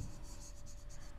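Pen writing steadily on paper while a geometry problem on parallelograms is worked out, a continuous scratchy stroke sound lasting about a second with a brief bump at the end; no talking.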